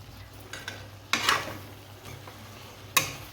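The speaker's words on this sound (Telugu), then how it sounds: "సరే బాగా కలిపేసుకుందాము" A spoon stirs country chicken curry in a pan, making two distinct scraping clatters over a faint background sizzle, with no voices.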